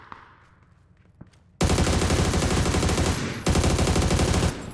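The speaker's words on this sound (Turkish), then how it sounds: "Tanka sıkıyorum. Hatta o tankı patlatırım ben." Automatic gunfire in the battle royale game PUBG: a loud, dense rattling burst that cuts in abruptly, runs for about two seconds, breaks briefly, then resumes, after a quieter stretch of soft clicks.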